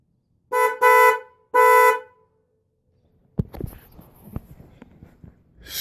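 Upgraded aftermarket horn on a Honda Magna motorcycle sounds three loud, close blasts, two short and one longer, with a brief gap between the bursts, followed by softer clatter and handling noise.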